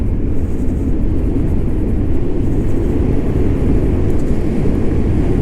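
A Chinese electric scooter rides at full throttle, producing a loud, continuous roar of wind and low rumble that stays steady and close throughout, with no talking.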